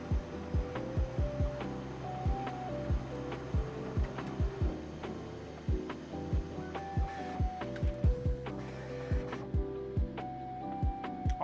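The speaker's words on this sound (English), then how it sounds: "So let's go ahead and do a test print." A Bambu Lab P1S 3D printer prints a Benchy after a nozzle and full hotend replacement, giving steady stepper-motor whines with shifting melodic tones and regular clicking pulses, close and alone without talk.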